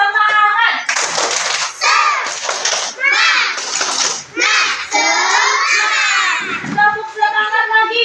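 A class of second-grade schoolchildren chants loudly in unison, their voices punctuated by rhythmic bursts of clapping, all close and filling the room.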